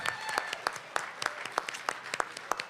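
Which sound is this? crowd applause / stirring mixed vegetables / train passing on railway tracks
crowd applause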